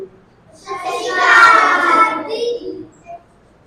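A burst of many small hands clapping together as schoolchildren applaud in their school, swelling and then fading out over a few seconds, fairly close.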